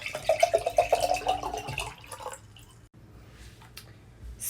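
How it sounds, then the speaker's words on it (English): Water pours into a container during a simple density experiment, a splashy rushing stream for about two seconds that then drops to a quiet, faint trickle. "Let's start by filling our container with water."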